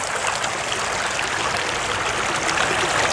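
Water running steadily through a home-made gold sluice fitted with gold hog matting, a continuous close rushing trickle with no pauses.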